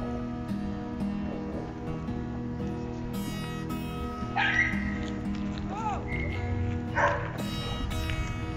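Dogs bark in short bursts at a lakeside park, mid-distance over a steady outdoor murmur, with people talking throughout.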